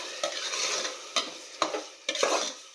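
Masala spices fry in oil in a pan for okra (bendekaye) sambar, a steady soft sizzle broken by several sharp scraping stirs of a spoon against the pan, close and clear with no talking.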